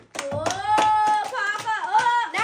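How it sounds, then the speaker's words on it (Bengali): Loud hand clapping from a group playing a spin-the-wheel fortune game at home, sharp irregular claps ringing out under overlapping excited voices. "জোরে হাততালি"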